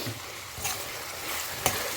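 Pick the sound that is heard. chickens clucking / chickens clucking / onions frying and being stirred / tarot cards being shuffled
onions frying and being stirred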